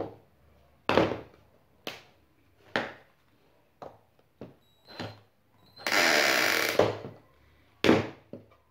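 A CR Ferramentas QFC1012-25N 12 volt cordless screwdriver set to torque 19 fires in short whirring bursts, several separate revs with gaps between, then one longer sustained run before a final burst, close and isolated.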